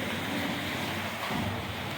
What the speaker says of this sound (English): that's how they divert the water through here. Comes down this trough here.